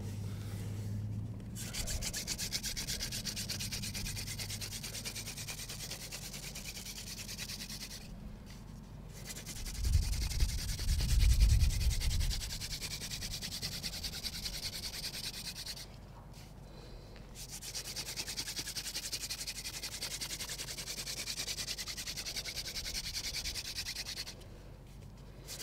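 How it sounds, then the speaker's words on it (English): Steady, dry rubbing and rasping of a wooden hand drill spinning on wood to make fire keeps going in long strokes, pausing briefly every few seconds before resuming, close and fairly quiet. "the key to the hand drill is speed and downward pressure"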